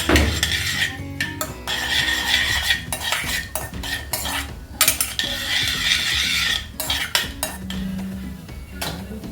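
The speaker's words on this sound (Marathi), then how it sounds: "हे थोडं आता मी जिरी मोहरी हे फुलून देते जरा, म्हणजे फोडणी छान बसेल." Mustard seeds and cumin spluttering in hot oil for tempering, with dense crackling pops and sizzle running throughout, close and fairly loud, broken by sharp clinks of a spoon against the pan.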